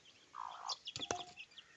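Chickens clucking softly nearby, a short low cluck followed by a few sharper, scratchy calls in a quiet setting.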